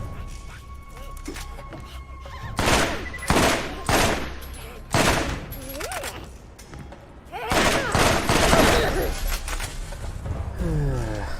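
Borderlands video game gunfire as a magazine is emptied, bursts of rapid shots and booms in several waves alongside game sounds, with someone talking over parts of it.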